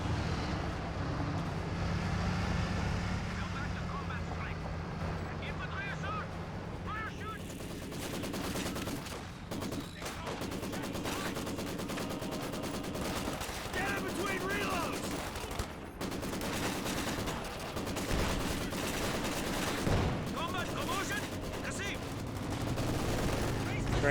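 Machine gun fire in the real-time strategy game Company of Heroes 2: rapid bursts and volleys of gunfire repeat throughout a dense battlefield mix of other weapon and vehicle noise.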